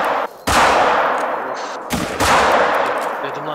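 Gunshots ring out in a hunting video game, two sharp loud blasts about a second and a half apart, each trailing into a long echoing decay, with faint background noise between them.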